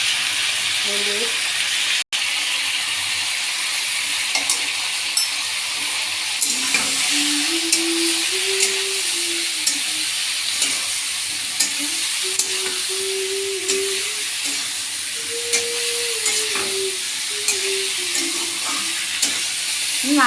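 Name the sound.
garlic and onion frying in a pan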